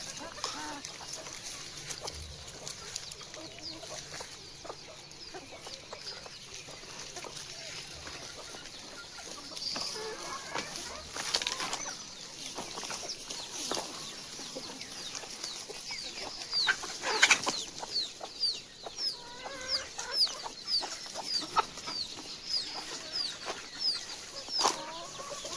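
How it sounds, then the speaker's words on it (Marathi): Multicoloured rooster and hens clucking on a farm among goats and chicks, with scattered clucks, brief wing flapping and chirps over steady outdoor ambience, moderately close and no talking. "हा मल्टी कलर मधला आपला कोंबडा."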